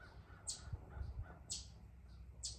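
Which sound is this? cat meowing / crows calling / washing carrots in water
crows calling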